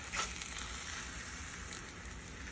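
Eggs fry in a pan with a soft, steady sizzle and faint crackle, continuous and fairly quiet, heard close with no talking over it.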